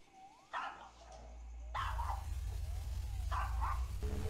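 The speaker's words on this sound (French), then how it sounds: "il y, a le toutou qui aboie" A dog barks several times in short bursts at night outside, somewhat distant, with steady background hum and faint whimpering yips between barks.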